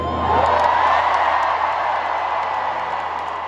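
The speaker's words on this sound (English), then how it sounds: "Everyone now is going to cheer for you." A huge stadium crowd of about 60,000 at a concert in Cardiff roars in sustained cheering and whoops, loud and broad from start to finish.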